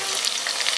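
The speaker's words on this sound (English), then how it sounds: "I'm not sure whether you can hear that or not, but it's definitely frying." Ground beef frying in a pot for chili, giving a steady, close hiss of dense sizzling crackle that runs unbroken from start to end with no voices.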